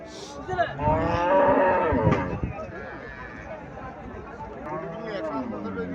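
A Sahiwal-breed cow at a cattle market lets out a loud, drawn-out moo close by, followed by a fainter second low call, with people talking around it.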